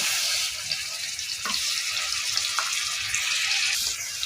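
Onion, garlic and ginger paste fries in a pan for a Bengali lentil dish, giving a steady close sizzle with a few soft clinks of utensils and no talking.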